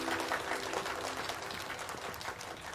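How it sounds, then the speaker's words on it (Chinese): Audience applause for the winner of a cooking competition, a steady dense burst of many hands clapping that fills the whole stretch at even strength with no voices over it. "掌声祝贺他！"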